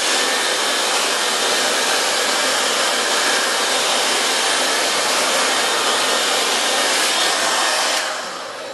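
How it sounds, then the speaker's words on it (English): A hair dryer blows a steady, loud, broadband whoosh while melting wax into a classic motorcycle jacket, running continuously and close for about eight seconds before dropping slightly at the end; no one speaks. "if I was to use the hairdryer it would melt the wax back in"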